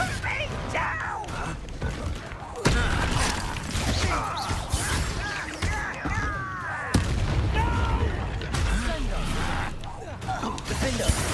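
Confringo, the blasting spell in Hogwarts Legacy, sets off repeated booming explosions amid chaotic combat noise, with a voice shouting spell names through the loud, continuous din.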